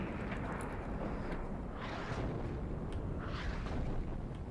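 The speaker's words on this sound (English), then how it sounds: "I'm shelling the town where enemies were back here." Artillery shelling a town in the Cold War strategy game WARNO, a dense, continuous low rumble of distant explosions that blend into a steady roar, with a few faint higher swells on top.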